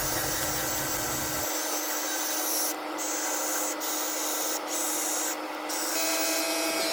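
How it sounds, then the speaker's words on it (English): A car headlight is sanded evenly by hand, producing a continuous scratchy rubbing hiss with several short breaks in the strokes, close and steady throughout. "Again, we do the same thing to the headlight as well. So we go ahead and we sand it evenly."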